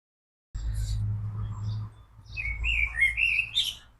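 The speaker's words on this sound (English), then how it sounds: "Blackbird." Blackbirds sing in a cottage garden, a clear nearby run of fluting whistled phrases rising over a low background rumble, with brief fainter chirps just before.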